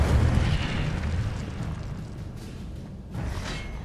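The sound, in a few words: Incendio fire spell explosion in the video game Hogwarts Legacy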